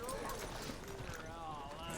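Horse hooves clip-clop steadily in Red Dead Redemption 2, faint and rhythmic beneath continuous in-game character dialogue and background music.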